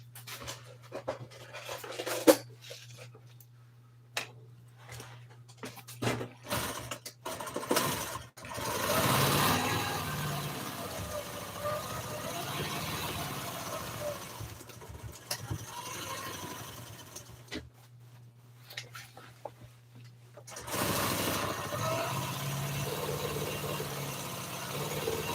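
Sewing machine stitching around the edge of a recovered seat cover for an old Toyota, running in two long steady whirring stretches with quieter handling and scraping noises between.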